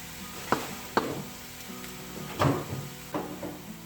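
A whole handful of garlic tossed into a hot frying pan, giving a steady sizzle broken by several sharp clatters and scrapes as it lands and is stirred, close and fairly loud with no talking.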